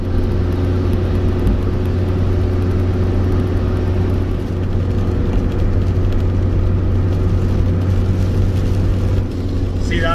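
Rover 820 car cruising along the M62 motorway, a steady loud engine drone and road rumble filling the cabin throughout, with a faint voice now and then underneath.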